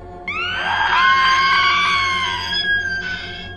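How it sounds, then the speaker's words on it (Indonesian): Screaming sound effect from underground in a horror story, a single drawn-out, wavering, high-pitched shriek over a low rumbling background, fading out with a faint echo. "ia mendengar suara jeritan dari bawah tanah."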